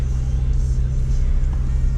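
A Toyota Prius engine strains under the weight of a 600 lb tire machine on a trailer, giving a continuous low droning rumble that stays heavy and steady throughout.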